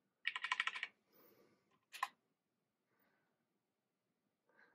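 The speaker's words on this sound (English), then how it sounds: "I can type it on my numpad on my regular keyboard." Short bursts of keypresses on the numeric keypad of a regular computer keyboard, used while removing the EFI password on a 2015 MacBook Pro 13-inch; a quick clattering flurry, then a single tap and a few faint clicks, close and clear.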